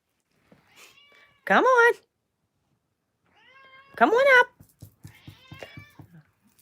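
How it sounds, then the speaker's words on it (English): A Persian cat meows in two loud, drawn-out calls, with a person speaking coaxingly before and between them and more talk afterwards. "why are you sitting there meowing?"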